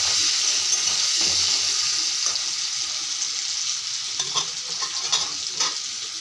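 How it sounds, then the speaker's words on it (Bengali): Potatoes frying in hot oil with salt and turmeric in a pan: a loud, dense, continuous sizzle with occasional stirring scrapes and soft clatter close by, no voices. "এখন আলুগুলো ভেজে নেব আগে"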